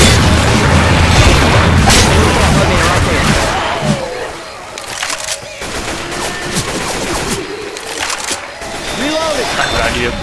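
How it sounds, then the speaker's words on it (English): A loud, rumbling explosion in the video game Left 4 Dead 2 fills the opening seconds, then gunfire and scattered bangs keep going, with a voice talking over the action. "And then wait for this explosion."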